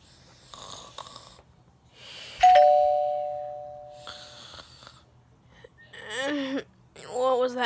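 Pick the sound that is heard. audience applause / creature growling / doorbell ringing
doorbell ringing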